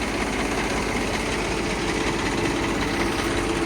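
An Eicher 333 tractor engine idling steadily nearby, a continuous low diesel rumble with even mechanical chatter and no change in pace, heard on its own without voices.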